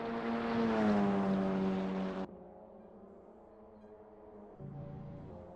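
A Cupra touring car engine in the TCR Europe sim racing round at Monza, heard as a loud, high revving whine that falls in pitch and cuts off, then a quieter engine note that rises again near the end.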